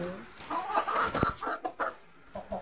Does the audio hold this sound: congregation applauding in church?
no